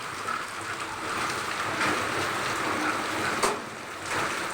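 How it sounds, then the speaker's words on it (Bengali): Steady rain falls outdoors as a continuous broad hiss with a slight swell midway and a brief louder splash, no voices. "আর বৃষ্টি দেখো"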